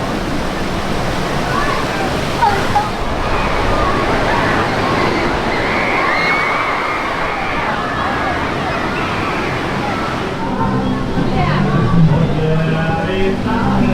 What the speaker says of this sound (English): Here's Gangplank Falls, which is a family river raft ride.